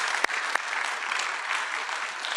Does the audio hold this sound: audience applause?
yes